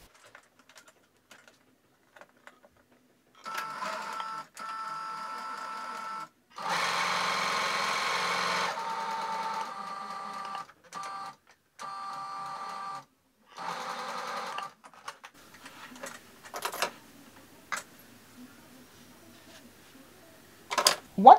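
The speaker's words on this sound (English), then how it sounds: "start off by stitching this short seam first" Sewing machine stitching a short fabric seam for a scrunchie, backstitching at the start and end: a series of steady mechanical runs of varying length separated by short pauses, close and clear.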